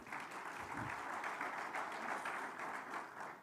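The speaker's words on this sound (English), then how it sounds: "Another round of applause for her, please." Faint, steady applause from an audience at a business forum, a dense wash of clapping held evenly throughout with no voices over it.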